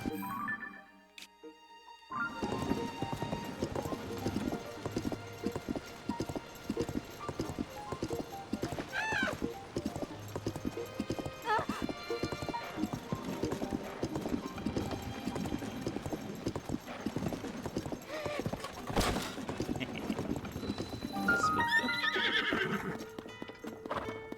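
A horse gallops with steady, rapid hoofbeats in Zelda: Tears of the Kingdom, neighing loudly at points over game music and effects, with continuous clip-clop across the whole stretch.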